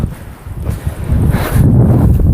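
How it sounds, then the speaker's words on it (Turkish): Gusty wind at a beehive apiary buffets the microphone with a low, rough roar that grows stronger and steadier toward the end. "Şimdi mübarek çok da rüzgar var. Burada hep rüzgar akıyor."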